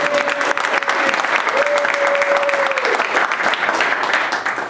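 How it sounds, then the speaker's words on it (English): At a community meeting, an audience applauds the speakers with a loud, dense, continuous clapping that lasts throughout, and a faint steady tone runs beneath it. "I want to do a round of applause and a thanks for our speakers who came out at the last minute."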